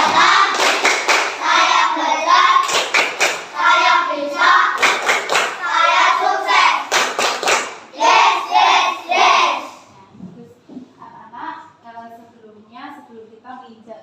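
A school class in Indonesia claps out rhythmic counting chants in unison, crisp grouped hand claps alternating with children's chanted voices, loud and close, followed by a teacher speaking.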